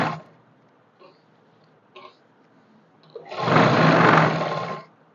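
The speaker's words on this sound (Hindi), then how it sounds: "पहले अंदर वाली सिलाई लगाऊंगी" A sewing machine stitching a salwar, with a few faint short clicks before a loud, close run of rapid stitching that lasts about a second and a half, then stops.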